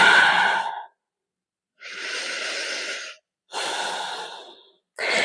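Slow, deliberate breaths during a hatha yoga session, alternating long airy exhales and inhales with short pauses between them, close and fairly loud, with no talking.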